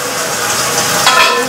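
Taro frying with coriander leaves in a pan gives a steady, close hiss of sizzling oil, broad and even, with a slight rise toward the end; no talking.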